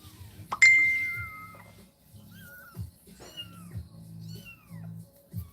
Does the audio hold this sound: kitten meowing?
yes